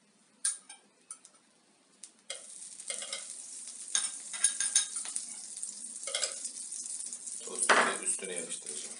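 Butter sizzling in a pan while a toast sandwich fries, a soft steady hiss with scattered clinks and scrapes of a utensil against the pan, close and fairly quiet, starting after a few light taps.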